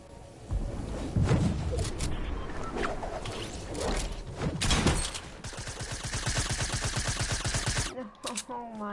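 Video game gunfire from the player's own weapon, including a shotgun, with loud bursts early and a rapid rattling volley in the middle, then a cutoff, with talk mixed in.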